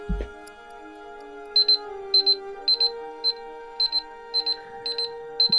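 A phone timer alarm sounds a rapid, high-pitched electronic beeping in short repeated bursts, about nine clusters at a regular rhythm over a faint steady hum, close and clear.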